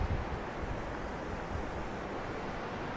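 The Peneda-Gerês waterfall in Portugal makes a steady broadband roar of rushing water with no breaks or voices, fairly loud throughout.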